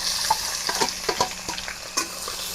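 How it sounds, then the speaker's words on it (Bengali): Chopped onions frying in oil with dried chili and whole cumin in a pan, a close, steady sizzle broken by light stirring scrapes. "তখন পেঁয়াজ ভাজা হচ্ছে"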